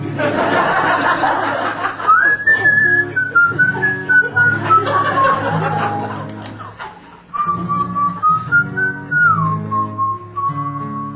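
A performer whistles a wavering, sustained tune in two long phrases, loud and close, while an audience chuckles and laughs softly underneath.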